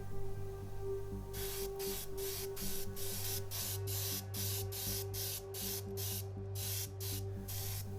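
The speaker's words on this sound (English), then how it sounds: "we do the final top coat and just go over all the body parts once again" Electric blue top coat being sprayed onto the body parts of a 1/12 scale Tamiya Kawasaki ZZR1400 model kit, heard as a steady hiss broken into a rapid run of short aerosol bursts over a low background hum.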